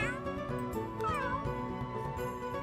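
A cartoonish pet cat meows repeatedly in The Sims 3 during cat creation, several clear meows over light background game music.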